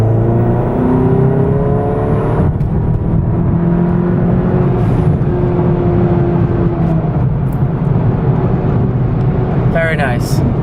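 A VW MK7 GTI accelerates at full throttle in 3rd gear from about 1500 RPM, engine drone rising steadily in pitch, heard from inside the cabin, with a short whoosh near the end.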